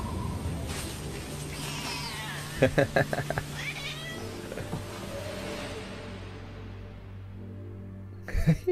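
A cat meows in an anime scene, with a few short cries rising above music and background sound, followed by quieter talk and a brief louder burst at the end.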